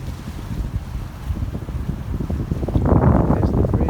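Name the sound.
150-horsepower motorboat running on the water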